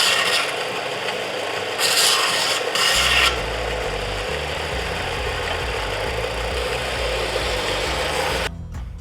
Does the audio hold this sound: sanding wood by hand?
yes